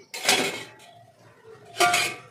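Boiled taro (kochu) being stirred in a pot, giving two short bursts of scraping and clattering against the metal with a quieter gap between them, close by and with no talk.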